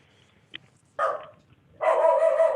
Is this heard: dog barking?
yes